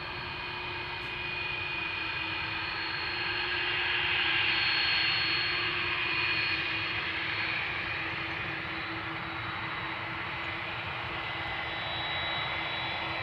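A Delta Airlines Airbus A330 near the runway threshold at Amsterdam Schiphol, a continuous jet engine rumble with a steady whine on top, swelling slightly midway and then settling, moderately close and alone.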